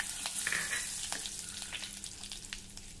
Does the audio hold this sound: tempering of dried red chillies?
yes